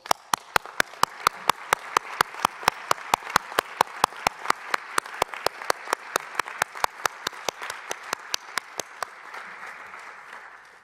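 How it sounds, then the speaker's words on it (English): Applause fills the hall at the UNIDO 19th General Conference, a steady crowd wash with sharp, evenly spaced loud claps standing out on top for about nine seconds before thinning out. "Please give them a big applause."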